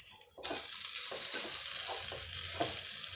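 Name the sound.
stirring and roasting grated coconut in ghee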